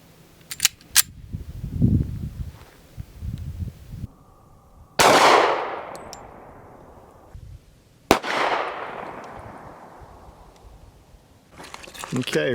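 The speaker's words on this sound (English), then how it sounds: "Next, we're going with 45 ACP. This is in a Rock Island Armory. It's their compact tactical 2" Two loud .45 ACP shots from a Rock Island Armory Compact Tactical 2 pistol, each sharp crack trailing into a long ringing decay, with brief talk and handling noise before.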